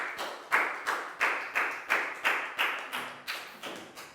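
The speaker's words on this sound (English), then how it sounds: "Big round of applause for Chu" Applause from a school classroom during a Year 4 English lesson: about ten sharp, evenly spaced claps, each ringing briefly in the room, at a steady rhythm. No voices are heard.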